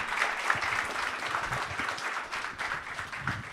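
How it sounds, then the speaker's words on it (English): An audience at a Trippie Redd listening-session playback applauds steadily, a dense wash of many hands clapping at even volume throughout, with no voices standing out. "Y'all clap for that, man."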